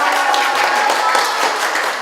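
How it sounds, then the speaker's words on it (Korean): Schoolchildren at an elementary school clapping together, a brief dense patter of many hands, close and fairly loud. "박수 부탁드립니다"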